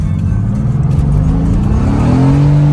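A Mercedes-AMG twin-turbo car accelerates hard with traction control off, its loud engine note climbing steadily in pitch across the whole stretch, close and continuous with no talking.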